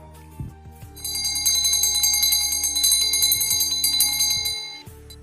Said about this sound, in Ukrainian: Ви чуєте такий знайомий звук. Це дзвоник вас онлайн на зустріч закликає.